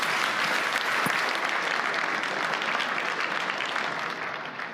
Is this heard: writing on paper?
no